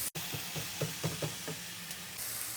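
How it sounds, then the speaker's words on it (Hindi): Chopped tomatoes fry in a pan for kachori filling, a steady sizzling hiss with soft rhythmic scraping of a spoon stirring, close and fairly quiet, no talking. "टमाटर डालने के बाद हम इसको 3 से 4 मिनट भून लेंगे।"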